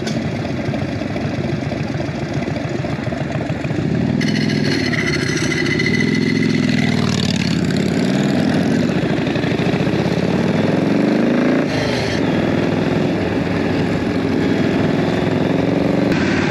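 Chopper motorcycles idle and then ride off toward a cemetery on a Memorial Day run, loud close engine rumble that swells as the bikes rev and pull away, with no talk.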